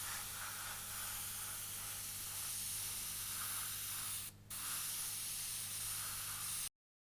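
An airbrush sprays paint onto a T-shirt through a stencil, a close, continuous hiss that runs almost unbroken, with one brief pause partway through before stopping abruptly.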